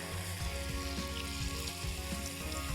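Blanched fries coated in cornflour fry in hot oil, giving a dense, steady sizzle and crackle throughout, close and loud with no voices.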